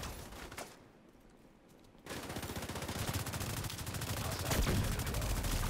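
Rapid automatic gunfire from a weapon in the video game The Division 2, opening with a few shots, then a short lull and a loud, dense, sustained burst of fire.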